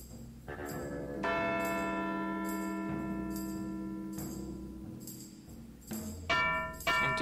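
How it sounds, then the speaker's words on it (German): A bell struck in the adventure game Edna bricht aus, chiming twice with long ringing tones that fade between strikes, loud and alone, with a fresh strike at the end. "Schlagen wir nochmal die Glocke."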